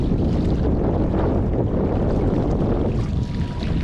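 A Bixpy Jet J2 motor drives a fishing kayak at full throttle on the water, its steady drone buried under loud, constant wind buffeting and water rush.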